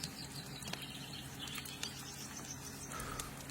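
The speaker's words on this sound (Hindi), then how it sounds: "सुबह की पहली किरण के साथ ही पक्षियों की चहचहाहट सुनाई देने लगी" Faint birds chirp and tweet sporadically at dawn against a quiet outdoor hum, distant and soft.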